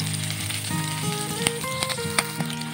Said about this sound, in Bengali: তাতেই দিয়ে দিলাম 1/2 চামচ 5 ফোড়ন আর 4টে চেরা কাঁচা লঙ্কা দিয়ে এবার লো ফ্লেমে 30 থেকে 40 সেকেন্ডের জন্য এগুলো আমি হালকা ভেজে নেব।